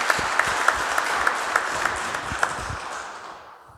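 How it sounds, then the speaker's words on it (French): Congregation applauding at a Christmas mass in church, a dense, steady wash of many hands clapping with a few sharper claps standing out, fading gradually toward the end. "Je voudrais quand même qu'on les applaudisse très fort parce qu'ils ont été formidables pour tous ces jours-ci."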